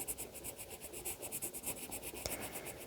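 Rapid, rhythmic back-and-forth strokes of a colored pencil shading paper on a Yule log cake drawing, close and steady, with one sharp tap near the end.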